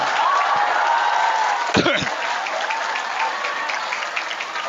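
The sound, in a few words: audience applause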